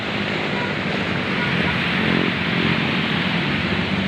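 Rough sea waves churn and break in a steady, loud wash of surf with wind buffeting the microphone, a continuous roar without clear pauses.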